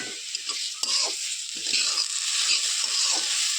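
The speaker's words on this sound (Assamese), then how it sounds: "অকণমান মই লৰাই থাকোঁ" Sugar and water being stirred in a pan while making a paneer dessert, a steady soft sizzling scrape with a few brief spoon knocks, close and alone with no talk.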